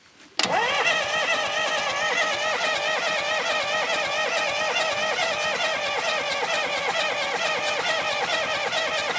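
An engine abandoned for 20 years cranks briefly, then catches and starts, running on as a loud, steady idle with a slightly uneven throb.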